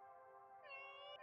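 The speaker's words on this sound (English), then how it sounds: "That is a cat." A cat meows in the video game Galaxy Burger, one clear, drawn-out meow that rises in pitch partway through, faint and heard alone.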